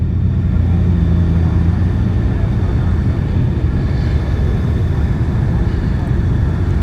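A 2025 Honda Goldwing 50th Anniversary touring motorcycle out on a test ride, its engine and wind rumble forming a loud, continuous low roar throughout, no speech.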